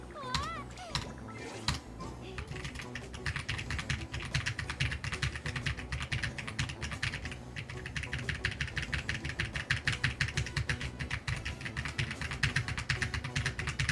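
Fast, steady typing on a freshly cleaned mechanical computer keyboard, close and crisp with deep clacky keystrokes, briefly joined at the start by a cat meowing.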